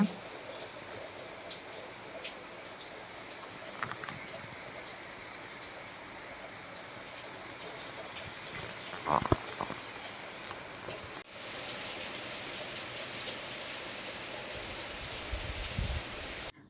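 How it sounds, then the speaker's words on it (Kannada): Steady heavy rain with wind pours continuously, a dense hiss with a few brief knocks and a slight shift in intensity partway through; no voices. "ನಮ್ಮೂರಲ್ಲಂತೂ ಮಳೆ ಅಬ್ಬರ ತುಂಬ ಜೋರಾಗಿದೆ"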